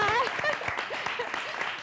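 A studio audience at a hosted music show claps steadily, with a voice talking over the applause throughout.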